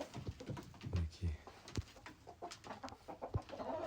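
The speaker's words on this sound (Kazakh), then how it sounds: "Мінекей біздің австралиялық поросты тауықтарымыз." Australian-breed chickens cluck softly in a coop, with scattered low calls and rustling while a person talks nearby.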